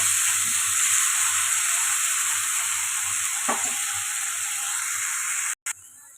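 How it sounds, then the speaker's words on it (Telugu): Tomato puree for mutter paneer masala sizzles steadily in a hot pan, a loud, continuous close-up frying hiss with a brief stir partway through and a sudden cut near the end. "ఇప్పుడు టమాటా కూడా కొద్దిగా పచ్చివాసన పోయేదాకా ఫ్రై చేస్తాం"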